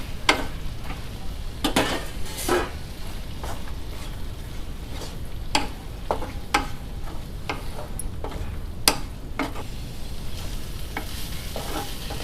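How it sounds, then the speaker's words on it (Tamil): Masala and fried egg pieces for Egg 65 sizzle steadily in a pan while a spoon stirs them, scraping and ticking against the metal in irregular clicks over a constant frying hiss. "இந்த மாதிரி வதக்கி விட்டுக்கிட்டு இந்த மசாலாவோட இந்த வறுத்து வச்சதையும் சேர்த்து கலக்கிக்கலாம்"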